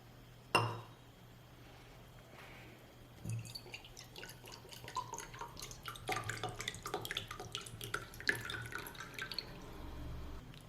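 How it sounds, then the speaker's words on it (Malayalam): Coconut water trickling and dripping out of a hole made in a coconut into a container, faint and close, with a sharp knock near the start and a light irregular patter that grows busier toward the end. "ഇനി നമുക്കിതിലെ തേങ്ങാവെള്ളം മാറ്റി വയ്ക്കാം"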